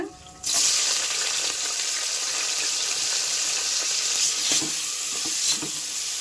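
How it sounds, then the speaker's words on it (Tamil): Chopped onions hitting hot oil in a pressure cooker, with cloves, cinnamon and cardamom already in the pan: a sudden loud sizzle bursts in after a brief quiet start, then settles into a steady close-up frying hiss with a few stirring bumps. "எண்ணெய் சூடாகிடுச்சு. வெங்காயம் போட்டுக்கலாங்க."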